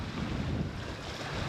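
Choppy waves slapping on a small lake, heard from a canoe as a steady broadband wash mixed with gusty wind buffeting the microphone, close and continuous with no voices.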